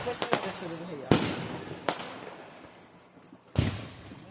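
Fireworks burst at a small backyard firework show, several sharp loud cracks and booms spaced over a few seconds with crackling decay between them, while people talk and exclaim nearby.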